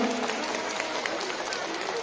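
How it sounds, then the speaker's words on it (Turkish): Children clapping together as a group, a dense, steady patter of applause for about two seconds with voices mixed in. "Kocaman bir alkış yapın ona."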